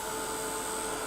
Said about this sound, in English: Make sure your heat gun is hot before you take it to your page